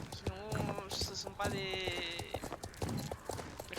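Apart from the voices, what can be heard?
horse hooves of riding characters, Star Stable Online video game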